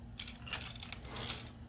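Small plastic parts of a Tobot Galaxy Detectives Ultra Commander transforming toy robot snap and click together, several light, close clicks spread through a quiet room with no talking.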